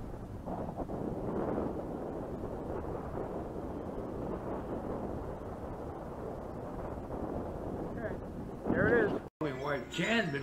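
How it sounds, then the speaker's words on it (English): Strong wind buffets the microphone outdoors as a steady broadband rumble that fills the whole clip, with a brief louder gust and a short dropout near the end. "And man, is it windy out here."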